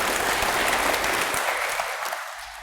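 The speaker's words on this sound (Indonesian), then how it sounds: "kasih tepuk tangan bapak-bapak ini dulu biar semangat lagi" A seated audience claps together for a group of gentlemen, dense steady applause that carries on loudly and then thins and fades toward the end, with no talk over it.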